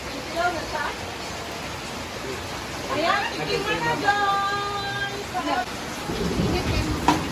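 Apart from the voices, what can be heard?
heavy rain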